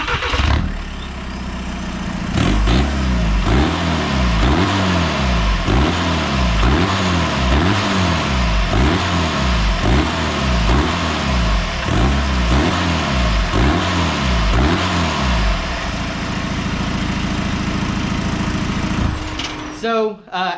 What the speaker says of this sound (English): show you exactly how it sounds, you know, when you start it up, idling, and then do a couple of revs